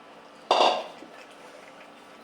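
Fish pieces go into a pan of tomato bhuna in a village kitchen with one sharp metallic clatter and a burst of sizzle, which then fades to a quiet simmer. A faint clink follows at the very end.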